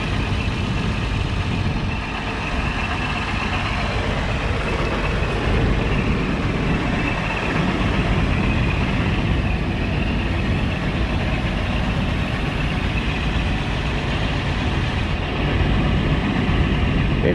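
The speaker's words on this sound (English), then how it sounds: "It's so quiet until you give it a little bit of throttle, and then that 354 really wakes up." A White 8700 truck with a 354 engine idles steadily and quietly, a continuous low rumble filling the whole stretch at an even level with no throttle changes.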